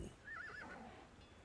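A single quiet horse whinny in the video game Conan Exiles rises and wavers for about a second over soft background noise, sounding somewhat distant.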